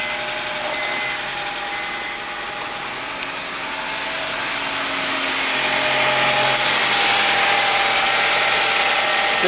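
2004 Honda CR-V engine idling after a start, a steady mid-pitched hum with a faint whine that swells slightly louder partway through, with no voices.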